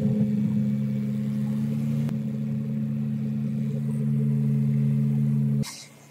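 An airboat engine drones loudly and steadily at a constant pitch on Stick Marsh or Kenansville Lake, a heavy sustained hum that cuts off near the end, with no talking.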